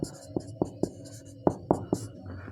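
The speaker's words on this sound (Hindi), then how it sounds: "तो यहाँ लिखेंगे चूँकि" A pen writes on paper during a Class 10 maths lesson, making a run of soft, regular scratching strokes close to the microphone, about eight in quick succession, with no talking.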